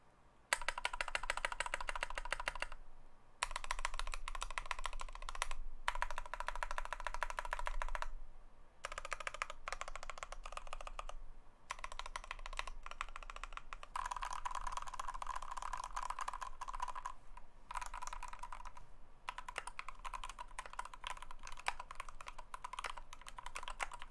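Rapid clacking of a Glorious GMMK Pro mechanical keyboard with Aqua King V3 switches, bursts of keystrokes with brief pauses, close and crisp with occasional heavier thocks from a poor-sounding spacebar.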